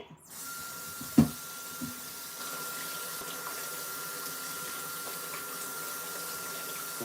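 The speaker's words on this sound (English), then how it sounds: "Rinse these skins right off." Tap water runs steadily into a sink while bean skins are rinsed off during hummus preparation, a continuous broadband wash of running water with a sharp clatter near the start.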